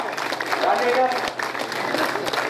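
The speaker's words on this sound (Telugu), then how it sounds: "గట్టిగా చప్పట్లు వాళ్ళకి ఎంకరేజ్మెంట్ ఇవ్వాలి కదా" A crowd applauds loudly for retirees, dense continuous clapping with voices mixed in throughout.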